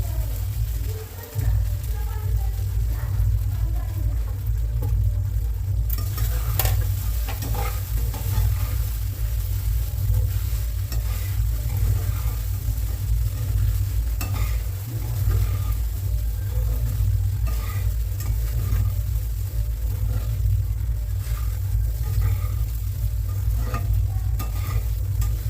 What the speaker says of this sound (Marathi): चांगलं हलवून घेऊ, शेंगदाणे कुट घालू।